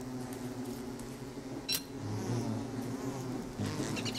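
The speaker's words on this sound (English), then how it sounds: "They don't like it if I catch... If I catch bees." Bees buzz in the video game Don't Starve, a steady droning hum under game audio, with a brief sharp effect partway through and no talk.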